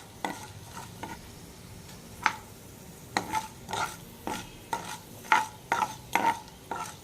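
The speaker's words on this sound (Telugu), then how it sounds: "ఆవాలు అయితే వేసేద్దాం. ఇప్పుడు ఒకసారి తిప్పేద్దాం వీటిని." Mustard seeds pop and sizzle in hot oil while a spoon stirs and scrapes the pan for a beetroot fry, giving irregular sharp crackles and metallic clinks over a low frying hiss, close and fairly quiet.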